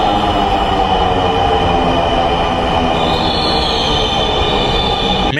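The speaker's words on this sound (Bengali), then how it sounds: "আমরা মেট্রো রেলের প্ল্যাটফর্মে একটু দাঁড়াতে না দাঁড়াতে মেট্রো রেলটি" A Dhaka metro rail train pulling into a platform, a loud continuous rumble of wheels on rails with a high squeal rising in the second half, steady and close, with no voices.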